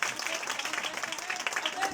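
An audience at a church gathering claps briefly in a dense, moderately loud burst of hand claps filling the whole moment.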